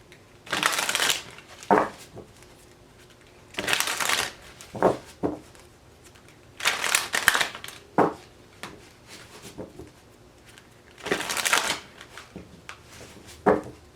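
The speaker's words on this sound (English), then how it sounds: "Two more shuffles for Taurus." Tarot cards are shuffled by hand in several separate bursts of crisp riffling and slapping, with short quiet pauses between them and no talking.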